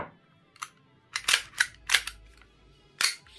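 An airsoft Glock-style pistol is handled up close, its slide racked in a few quick, sharp plastic-and-metal clacks, separated by short pauses in a quiet room.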